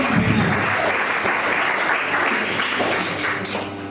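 Audience applause in a hall at a university law students' mock trial event in Mwene Ditu, loud and steady throughout, easing slightly near the end.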